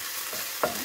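Garlic and ginger hitting a pan with browning ground beef for penne macaroni, giving a brief, steady, close sizzle with one small scrape partway through.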